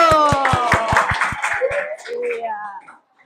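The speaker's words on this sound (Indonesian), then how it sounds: "tepuk tangan dulu" A class claps together in a quick, rhythmic group pattern of sharp beats at an Indonesian school lesson, with voices chanting along over the clapping before it stops.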